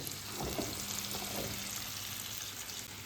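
Onion and carrot sizzle and crackle steadily in a hot pan over low heat, a continuous close frying hiss with no talking.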